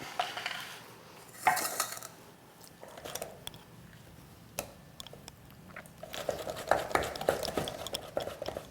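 A knife cuts and shaves raw cauliflower for a salad, giving scattered crisp crunches and scraping strokes against a board. The sounds are quiet, irregular and close, with soft clatter between cuts.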